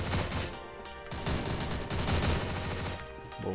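In the CrossFire video game, an M37 Stakeout shotgun firing slugs lets off loud, close blasts in quick succession, packed together with dense game action noise.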